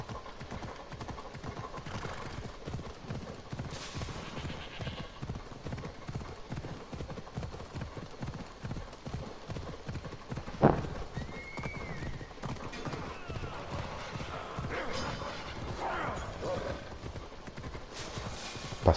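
A horse gallops in the video game Assassin's Creed Odyssey, with steady rhythmic hoofbeats running throughout, close and clear, and a brief whinny partway through.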